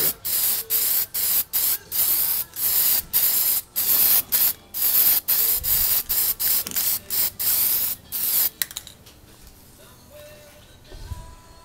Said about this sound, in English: you want to remember when you're spray painting, to always keep your hand moving